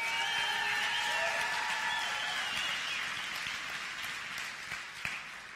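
A crowd at a church's tenth birthday gathering gives a woman another round of applause, a faint, continuous patter of many hands with some sustained musical tones fading out early and a few sharper claps near the end.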